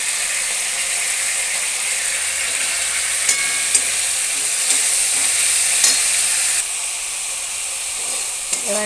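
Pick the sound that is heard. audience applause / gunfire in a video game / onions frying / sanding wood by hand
onions frying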